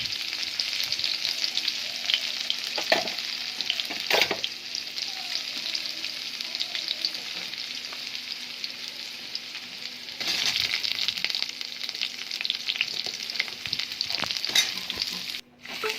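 Chopped potatoes frying in hot oil with panch phoron and chopped onion for a jackfruit-seed curry: a steady, close sizzle with brief scraping stirs throughout.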